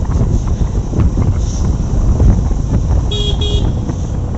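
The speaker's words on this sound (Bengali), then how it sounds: "উনি খুব মনোযোগ দিয়ে বাইক চালাচ্ছে" A motorcycle rides along a village road beside a river, with steady engine rumble and wind buffeting the microphone throughout, and a brief double horn toot near the end.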